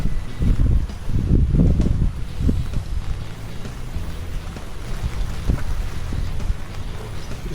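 Rain falls at Victoria Peak Garden, a steady outdoor wash of drops with heavier rumbling bursts early on, then settling into a continuous patter with no voices.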